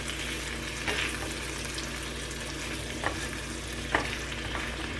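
Sliced apples sizzling in butter in a hot pan: a steady, even frying hiss with a few soft stirring clinks, no talking.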